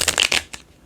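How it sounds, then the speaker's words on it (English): Tarot cards riffled in a quick shuffle: a few close, crisp papery bursts bunched together, then a last soft flick before the sound fades. "I'm feeling an urge to shuffle again. So this is pre-shuffled, but we're going to shuffle"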